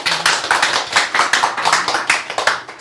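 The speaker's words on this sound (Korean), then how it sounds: "박수 한번 받아야죠." An audience at a Catholic priest's Bible lecture claps, a loud, close patter of hands with distinct individual slaps in a quick, uneven rhythm that continues throughout.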